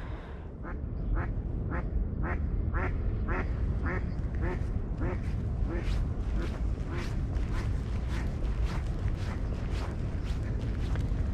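Ducks quack repeatedly in Central Park, New York, a steady series of sharp calls getting denser as the clip goes on, over a constant low outdoor city rumble.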